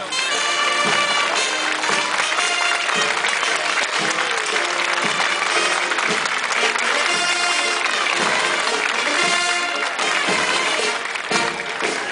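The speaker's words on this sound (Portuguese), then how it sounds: "forte salva de palmas à banda do Exército Brasileiro e da Brigada Militar" Loud applause at a civic military parade in Pelotas, Brazil, honoring the Brazilian Army and Brigada Militar band, with dense continuous clapping blended with band music filling the whole stretch.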